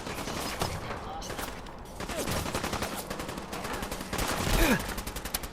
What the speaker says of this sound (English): Hearing gunfire here now as well